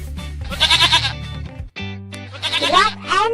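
Sheep on a farm bleat loudly in two wavering calls separated by a brief pause, heard close up over a soft background music track.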